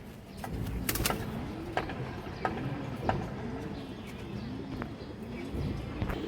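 A female pigeon coos in soft repeated rounded phrases, fairly close, with a few sharp clicks and light shuffling among caged birds, no talking.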